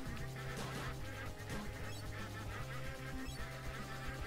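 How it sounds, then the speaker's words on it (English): Ducks quack repeatedly in the Legend of the Brofist game, their short nasal calls partly buried under busy, loud game music and effects. "Ducks!"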